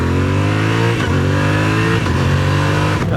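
A Yamaha Tenere World Raid adventure motorcycle with its stock exhaust revs steadily with a strong, close engine drone, its pitch dipping briefly at each of several gear shifts.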